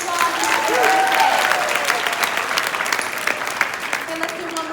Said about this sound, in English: Molly, give Molly a round of applause.